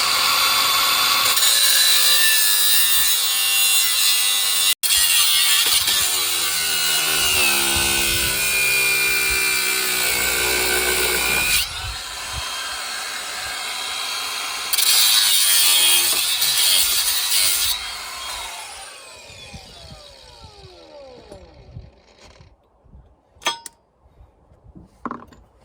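A power tool cutting through the part of a broken CV joint on a quad, a loud sustained grinding whine with pitch shifts that stops and restarts before winding down into scattered clanks.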